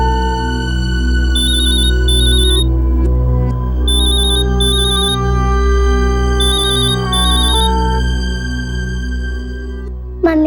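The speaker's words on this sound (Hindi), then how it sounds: "मम्मी का फोन है।" A mobile phone ringtone plays in repeated melodic bursts over a loud, steady low musical drone, clear and continuous for about ten seconds with no speech.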